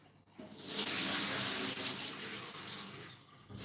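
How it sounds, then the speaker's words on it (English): Tap water runs steadily into a pan as rice is rinsed, a continuous close splashing gush with no talk over it. "Rinse in the rice, rinse in the rice, rinse in the rice with starch"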